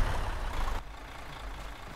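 A truck in the video game Arma 3 moves with a low engine rumble that drops off sharply after a moment and leaves a quieter hum, faint and brief.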